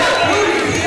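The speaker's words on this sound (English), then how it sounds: "What a reception from this great crowd here tonight." A crowd at a live independent wrestling show cheers and roars loudly for a wrestler's entrance, a dense, sustained burst of shouting voices filling the arena.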